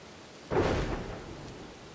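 A thunderclap in a prehistoric settlement during a thunderstorm with rain in Dawn of Man, a single sudden boom that rolls and fades over about a second over faint background.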